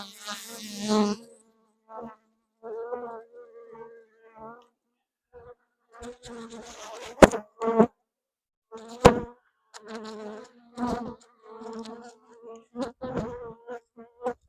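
Near a two-queen beehive, a honeybee buzzes in short, intermittent bursts close by, darting around a hive windscreen, with scattered faint knocks between the buzzes.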